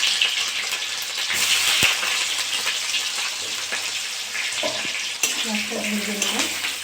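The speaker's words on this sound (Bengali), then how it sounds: "পেঁয়াজটা ভেজে নেবো, বেরেস্তা করে নেবো।" Onions frying in hot white oil in a kadai for birista give a steady, dense sizzle that carries on close and loud throughout, with a few brief clinks and scrapes partway through.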